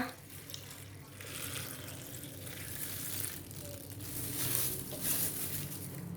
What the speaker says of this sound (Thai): เทน้ำลงไปให้ท่วมนะจ๊ะ